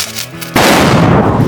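A Diwali firecracker bursts with one sharp, loud bang partway through, its blast then rolling off into a long, noisy decay. Before the burst, sustained music plays.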